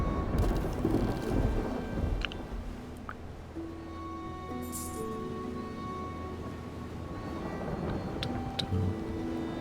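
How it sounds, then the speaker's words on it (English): Thunder rolls through a stormy sea scene in the video game Mount and Blade II: Bannerlord, with steady rain hissing underneath and faint tonal game sounds drifting in and out. "I'm telling you not to go into the storm because it's dangerous."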